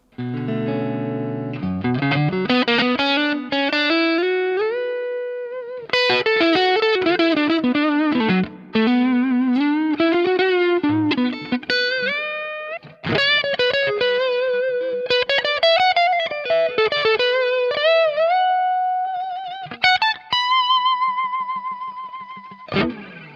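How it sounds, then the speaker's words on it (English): Fender Stratocaster electric guitar played through distortion and effects, giving crunchy bluesy tones: loud, sustained bent notes and quick runs with chords, continuous and alone with no talking. "the Stratocaster is really great for more bluesy, kind of crunchy tones that you can hear in the next clip."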